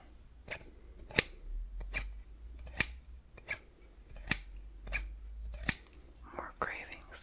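Scissors snip close to the mic in a slow series of about ten crisp cuts spaced roughly a second apart over quiet background hiss, with faint soft rustling near the end.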